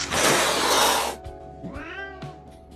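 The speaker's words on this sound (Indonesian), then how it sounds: "Beberapa saat kemudian muncul seekor kucing yang kebetulan menghalangi tangan Eli" A cat in a film scene lets out a drawn-out, wavering meow after a loud burst of rushing noise cuts off, the cry close and clear against a quieter background.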